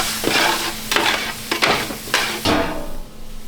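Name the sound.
shallots sweating in a pan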